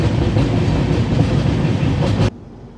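An express train pulls into Digha station, a steady loud rumble and rattle of wheels on rails that cuts off abruptly near the end.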